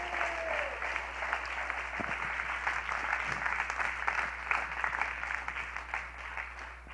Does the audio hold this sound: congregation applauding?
yes